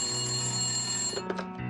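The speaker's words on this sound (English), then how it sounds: "when he received a phone call" A telephone rings in a home as a father receives a call, the bell sounding steadily and fairly close, with a few brief clicks near the end before a pause.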